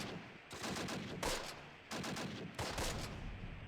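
Mortar team firing in the Close Combat war game, heard as a rapid sequence of loud, sharp reports in bursts, three heavier blasts punching through a continuous clattering barrage.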